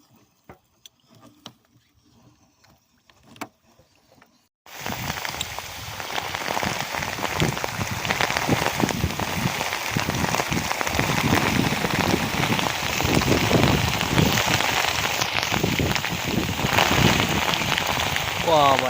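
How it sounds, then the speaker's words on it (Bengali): Heavy rain from Cyclone Remal bursts in abruptly after a few seconds of near quiet during coastal net fishing, then pours as a loud, dense, steady hiss that lasts to the end. "বাবা এত বৃষ্টি,"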